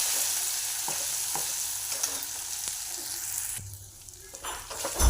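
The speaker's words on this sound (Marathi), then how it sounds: "मसाला सगळा चांगला भाजून घ्यायचा आहे" Cumin seeds, curry leaves and garlic-coconut masala roast in a hot pan with a steady soft sizzle, punctuated by occasional stirring scrapes and a brief lull near the end.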